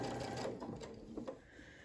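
Sewing machine stitching binding onto a quilt, a quiet, quick, steady run of needle strokes.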